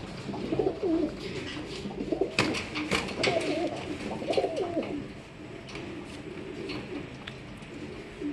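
A male pigeon coos repeatedly in a loft, the low throaty rolling calls clear and near over faint background noise and other bird sounds.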